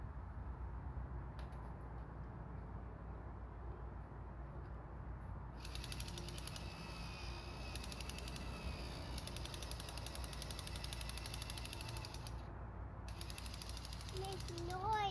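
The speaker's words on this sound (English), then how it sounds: "got his little drill" A child's toy drill whirs and ratchets steadily close to the microphone, running continuously with brief pauses while a child plays at fixing a gate at home.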